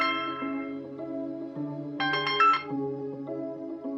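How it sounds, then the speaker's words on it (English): A telephone ringtone plays alone, a tonal electronic melody of short stepped notes with a brighter, busier burst in the middle, moderately loud and close. "when the Lambert alias first called me on the phone"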